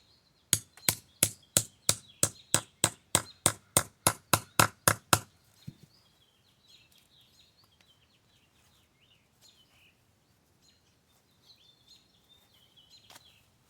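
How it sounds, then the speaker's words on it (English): A Harbor Freight grommet hole punch is struck with a hammer through thick material, giving about fifteen loud, evenly spaced blows over five seconds, then quiet with faint background chirps. "this will give you an idea of how well the punch works"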